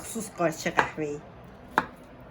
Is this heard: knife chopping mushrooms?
yes